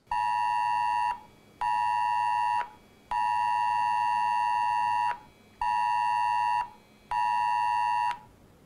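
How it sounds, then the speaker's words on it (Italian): An IT-Alert public emergency test tone sounds from a mobile phone: five loud, steady electronic beeps of about a second each, separated by short gaps, heard alone. "abbiamo visto che uno dei tre telefoni è suonato per primo"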